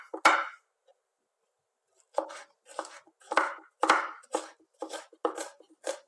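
A knife finely chops half a red kapya pepper on a board, with one opening chop, a pause, then a quick run of nine or so crisp, close cuts.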